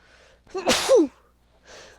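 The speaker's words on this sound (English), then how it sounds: "Sneezes." One sharp, close sneeze with a quick intake of breath before it, then quiet.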